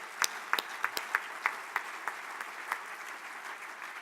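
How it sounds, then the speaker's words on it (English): An audience applauds city employees at a State of the Cities event, a steady wash of many hands clapping in a hall, with individual claps popping out near the front and no voices. "So a round of applause for all the city employees."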